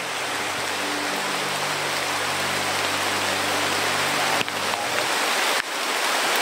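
Heavy rain pours steadily outdoors, a dense continuous hiss with a low hum underneath, loud and unbroken apart from a couple of brief knocks.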